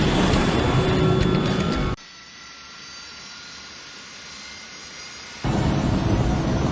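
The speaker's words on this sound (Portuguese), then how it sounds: "coloca as manetes no máximo e começa a decolagem" Jet airliner on the runway at Tenerife with throttles pushed to maximum for takeoff, a loud broadband roar that cuts out to a low hum, then surges back abruptly, no voices.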